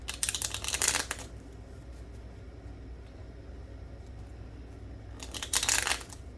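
Tarot cards being shuffled by hand, two short riffling bursts at the start and end separated by a quiet stretch, close up with no talking.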